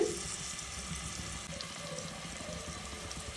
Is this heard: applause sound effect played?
no